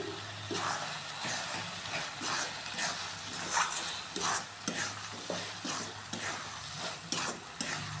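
Carrot halwa cooking with ghee in a pan, a continuous close sizzle broken by regular scraping strokes of a spoon stirring the mixture, with no voices.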